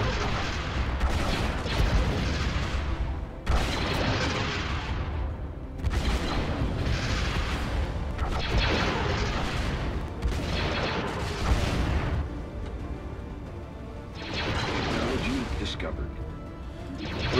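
Weapons fire in a Stellaris space battle, with torpedoes and point defense in play: loud, continuous bursts of booming, crackling fire that swell and drop in waves across the whole stretch, with brief lulls and no talk.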